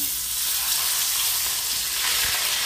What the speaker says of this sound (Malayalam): അപ്പൊ നമ്മുടെ സി ഡി മുള്ളം വറക്കാൻ പോവാണ്